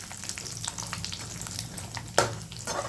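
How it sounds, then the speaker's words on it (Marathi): Finely cut coconut fries in hot oil with a soft, continuous sizzle and light crackle, close by, with one brief louder pop of bubbling near the end. "आता इथे म्हणजे तेल गरमच आहे, तर आपण त्यामध्ये खोबरं तळून घेऊया."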